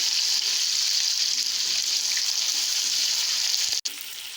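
Steady, loud sizzling of ginger and tomato paste frying in a pan, continuous hiss with a brief break near the end.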